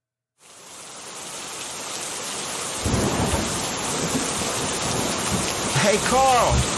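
Thunderstorm with heavy rain in the Fallout video game: a steady broadband downpour hiss that swells into a deep, rolling thunder rumble partway through, loud and continuous, with a few faint chirping bird-like calls near the end.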